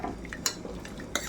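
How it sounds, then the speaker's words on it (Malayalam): A spoon stirs cooked chickpea curry in a pot, making soft wet scraping with two sharp metallic clinks against the rim, quiet and close over a brief moment. "അത് നമുക്കൊന്ന് ഇളക്കി നോക്കാം"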